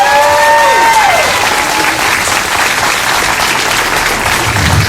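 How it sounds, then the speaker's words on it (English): Audience at a 2021 middle school moving-up ceremony breaks into steady, loud applause that fills the whole stretch after a voice trails off at the start. "let's give our class a round of applause"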